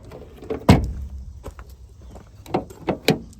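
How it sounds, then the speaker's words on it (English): Several sharp clunks and rattles of a Honda Civic Si coupe's rear door handle being pulled in a salvage yard, one loud thud early, then a few quicker knocks. "Can't open the rear door here."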